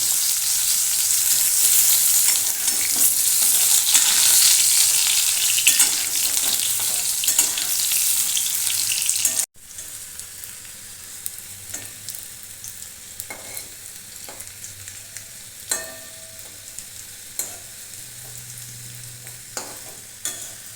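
Boiled potatoes for chhanar dalna frying in a pan after the spices are tempered, a loud hissing sizzle that drops abruptly midway to a quieter crackle, with intermittent clicks and scrapes of stirring.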